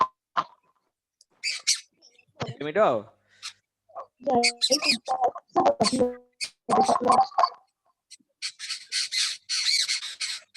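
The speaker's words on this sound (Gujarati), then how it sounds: "ચકલીઓ ઈ બોલે છે" Sparrows chirp in quick, high bursts that come and go, mixed with a person talking nearby in a home setting.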